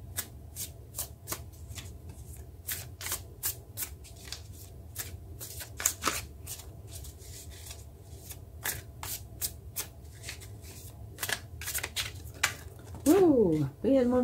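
Tarot cards are shuffled close up in a fast run of crisp slaps and riffles, with a few pauses, under a low hum; a voice briefly speaks near the end.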